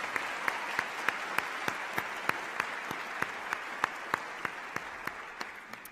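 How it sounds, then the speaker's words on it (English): Scattered audience applause at a county executive inauguration in a concert hall, sparse, distinct claps at a steady slow rhythm, moderately distant and tapering off. "Can we give them a big round of applause?"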